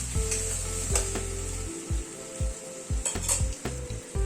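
A paste of tomato, ginger and green chili sizzles loudly in a hot pan, with a steady frying hiss broken by repeated scraping strokes of a spatula stirring it.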